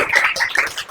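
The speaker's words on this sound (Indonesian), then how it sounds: "Oke, tepuk tangan untuk semua." A group clapping together after an Indonesian rupiah-awareness chant, brief dense irregular bursts of hand claps close by.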